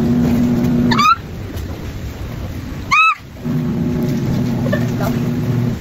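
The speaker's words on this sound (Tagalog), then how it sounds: "Ulan na!" Steady rain noise with rumbling underneath, broken by two sharp whooshing sweeps, like a storm with passing gusts.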